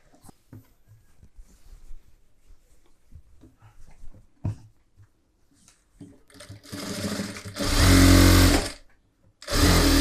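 Quiet handling and small clicks give way to two loud, close bursts of a sewing machine running fast as it stitches a collar neck blouse, with a short pause between the bursts.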